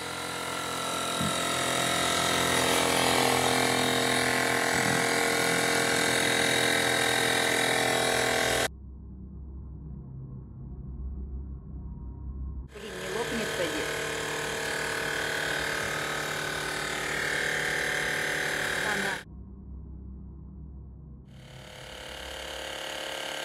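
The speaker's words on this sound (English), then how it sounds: "this woman bought a new compressor and decided to pump the wheel on her" A new air compressor pumping up a bicycle tyre runs in loud, steady bursts of motor noise, cutting out twice into quieter pauses before starting again, with no talking.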